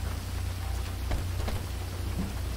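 Rain falling in a FiveM roleplay video game, a steady hiss of rainfall with a low rumble beneath and a few faint patters, even and continuous.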